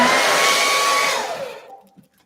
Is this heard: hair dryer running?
yes